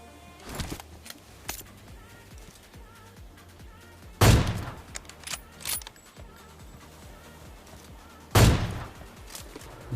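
Loud AWM sniper rifle shots in a battle royale video game, three sharp blasts spaced a few seconds apart over quieter in-game ambience and small clicks.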